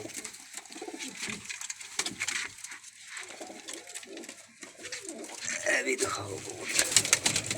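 Pigeons for sale coo and flutter in a busy loft, the soft calls rising through steady background noise while someone talks in Hindi-Punjabi over them.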